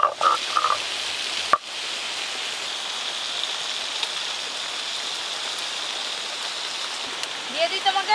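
Big raindrops falling onto a pond make a steady, close, dense patter and hiss that runs without a break, with a short sharp knock early on.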